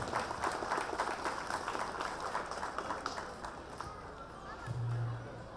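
An audience at a school function claps in welcome for a chairman, a dense continuous patter of many hands filling the hall, fading slightly toward the end with a faint murmur beneath.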